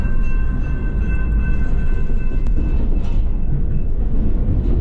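A train rolling at speed, heard from on board near Revelstoke: a steady, loud low rumble fills the whole stretch, with faint tonal hums and a brief sharp click midway.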